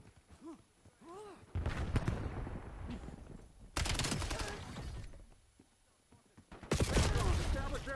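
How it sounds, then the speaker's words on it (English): Loud shotgun blasts and rapid gunfire come in heavy bursts during an online video game firefight, separated by quieter stretches where a voice talks. "Somebody's got a shotgun."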